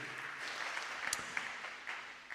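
A church congregation applauding joyfully during a sermon, a soft, distant wash of clapping with a few sharper individual claps standing out, heard faintly in a reverberant hall.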